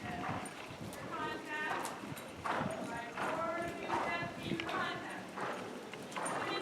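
Horse hooves clip-clop at a steady walking rhythm, fairly close, while people talk over the top and a dog may bark briefly.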